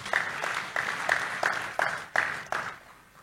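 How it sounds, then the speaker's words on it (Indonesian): A church congregation claps in unison during a Sunday service, about nine sharp, evenly spaced claps in a steady rhythm that fade at the end. "Tepuk tangan buat Tuhan Yesus."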